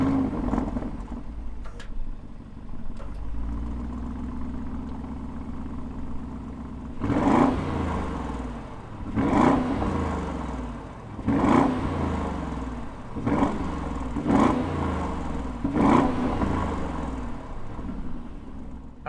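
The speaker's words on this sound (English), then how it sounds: "let's hear some V8 rumble out of this exhaust" A 2021 Audi SQ7's V8 exhaust idles with a steady low rumble, then rises in a series of sharp throttle blips, roughly every two seconds, each swelling and falling back, close and loud with no talking.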